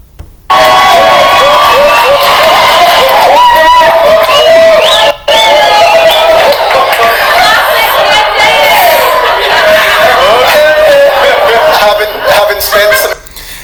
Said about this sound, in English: do you hear the cheering in the background?